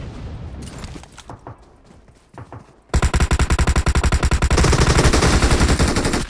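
Rapid automatic gunfire from a mobile battle-royale shooter: sparse shots and movement give way to sustained, loud, evenly rhythmic bursts of machine-gun fire through the second half.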